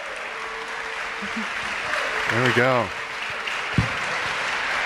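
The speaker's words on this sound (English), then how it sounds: "One last round of applause" Lecture audience breaks into a round of applause, steady clapping from a seated crowd while someone speaks briefly over it.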